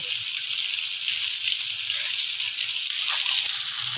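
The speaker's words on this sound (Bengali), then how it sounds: "এই দেখুন আমার একটা একটা বল ভাজা হয়ে যাচ্ছে" Cheese potato bread balls deep frying in hot oil, a loud, steady, continuous sizzle with no pauses throughout.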